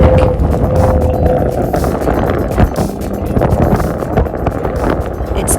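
Strong wind gusting across the open dune field at Great Sand Dunes, a steady loud roar buffeting the microphone for the whole stretch, with a faint tonal whistle early on like air blowing over a water bottle.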